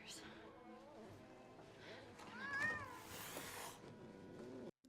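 A cat in the film Mockingjay – Part 1 meows and yowls in several drawn-out, angry cries, fairly close and loud, with film dialogue and other voices around them.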